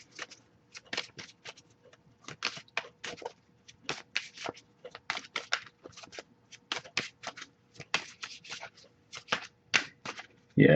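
Tarot cards being shuffled close by in repeated quick riffling bursts with short gaps, crisp and papery, continuing for several seconds.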